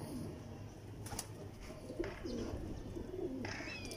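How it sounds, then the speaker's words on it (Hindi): Pigeons coo in soft repeated low calls close by, with a few brief flutters and chirps mixed in over light background noise. "हमेशा ये कहता हूँ कबूतर खुद बोलता है।"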